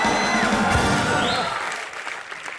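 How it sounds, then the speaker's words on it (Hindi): Studio audience applauding models on a Hindi TV comedy show stage, a broad wash of clapping that fills the clip and tapers slightly toward the end, with faint cheering mixed in. "जोरदार तालियां इनके लिए।"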